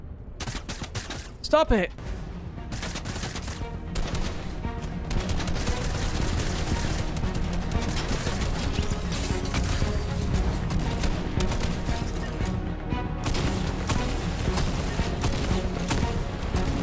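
Sustained, close video-game gunfire rattling almost continuously, with a sharp burst early on and steady automatic fire after; a voice speaks briefly over it.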